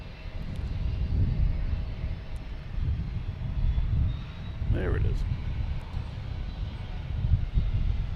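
A propeller plane drones steadily nearby as it comes in to land at Boston Logan Airport, with a few words spoken briefly over the engine noise.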